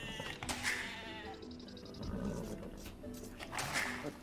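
Sheep in the Age of Empires video game bleating twice, short nasal calls about three seconds apart over faint background game sounds.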